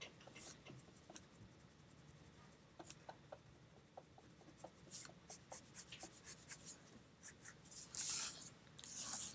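Graphite pencil drawing and shading on paper for a toothbrush drawing, soft, close scratchy strokes in quick repeated rhythm, growing into brisker rubbing toward the end, quiet overall.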